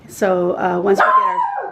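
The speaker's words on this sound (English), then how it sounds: "oops, that's my dog, sorry" Close indoors, a household dog gives a loud, whining bark-yelp lasting about a second and a half, with someone talking over it at the same time.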